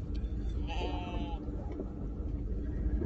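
Freshly shorn sheep just out of the shearing sheds in New Zealand bleat nearby, a clear wavering call rising over a low rumble with people talking in the background.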